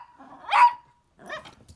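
A dog gives two barks close by, the first sharper with a slight growl, the second shorter, with a brief pause between them.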